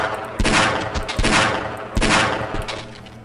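Gunfire in Half-Life: Blue Shift: three loud bursts of rapid shots spaced about a second apart, each sharp and close with a short tail.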